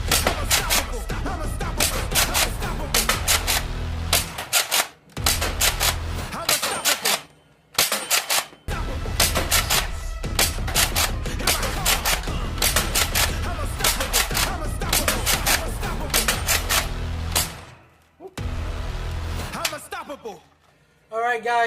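A toy foam dart blaster with its stock scar barrel firing darts at a rival target, long bursts of rapid mechanical clacking broken by short silent gaps, loud and close.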